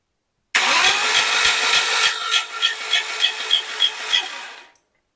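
A VW 1600cc air-cooled engine with a 26 mm oil pump cranks and fires, then runs loud and close at a slow idle of roughly 500 to 600 RPM, with a rough, pulsing rhythm throughout before cutting off.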